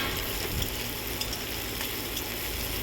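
Onions and black cumin seeds frying in a little oil, a dense, even sizzle with faint stirring, steady throughout.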